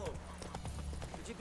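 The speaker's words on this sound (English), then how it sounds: "Whoa there, Roach." Horse hooves clip-clopping in a video game, a quick irregular patter of soft thuds under a voice, lasting only a moment.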